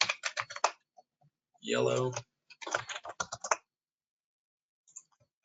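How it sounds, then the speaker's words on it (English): Quick, crisp keystrokes on a computer keyboard come in several short bursts. A person briefly speaks between the bursts. "I'm going to start typing up the colors."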